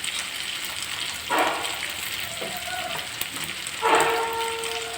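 Raw onion and tomato sizzle in a hot pan, a steady frying hiss with two louder bursts as ingredients hit the oil, all close up with no talking.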